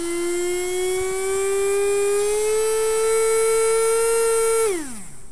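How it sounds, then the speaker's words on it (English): Two small DC motors driven by an ESP32 and an L298N motor driver whine loudly and steadily close by. The tone rises slowly in pitch, holds, and then falls away quickly as the motors stop. "Now both motors are running"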